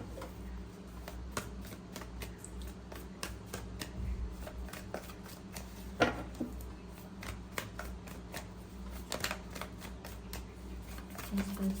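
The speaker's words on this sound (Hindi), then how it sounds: "चलिए एक कार्ड और लेते हैं इसी डेक से।" Tarot cards being shuffled and drawn from a deck, a close, quiet run of crisp riffles and light papery flicks with repeated sharp snaps, with no one talking.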